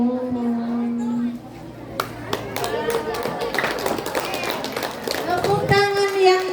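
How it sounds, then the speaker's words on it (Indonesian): Audience at a primary school dance performance breaking into clapping after a held musical tone, mixed with children's chatter and a voice speaking over the scattered applause. "Tepuk tangan yang meriah"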